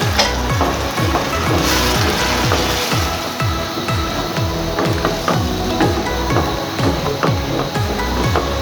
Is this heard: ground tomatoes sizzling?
yes